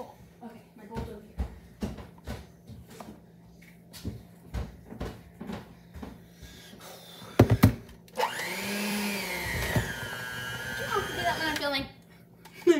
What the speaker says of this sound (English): I'm gonna have Kristen keep beating the cream cheese frosting